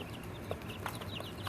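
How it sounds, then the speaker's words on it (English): Silkie chickens in a shed coop cluck softly, with a few brief clucks standing out over a steady low background hum. "These are silkies. It's the first time we've done chickens."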